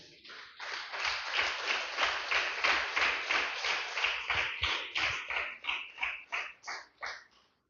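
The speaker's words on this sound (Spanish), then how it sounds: "Denle un fuerte aplauso al Señor, aleluya." Church congregation clapping together in a steady, dense burst that swells, then thins into a few separate claps before stopping.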